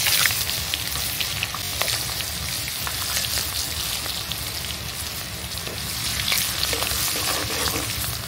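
Whole spices and chopped onion fry in hot oil with a steady, dense sizzle that runs unbroken throughout, close and fairly loud, with faint stirring clicks and no voices.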